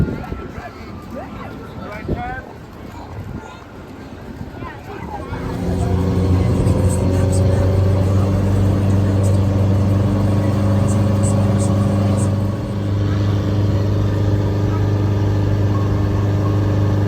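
Water taxi engine in Orlando starting up around six seconds in, then a steady, loud low drone with strong harmonic hum, wind buffeting the microphone throughout.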